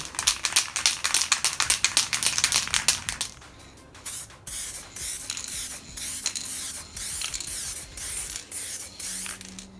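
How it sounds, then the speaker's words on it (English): Bursts of spray hiss from a paint gun painting a front lip for a Honda S2000, rapid pulses at first, then longer steady passes with short gaps, close and loud. "about ready to spray"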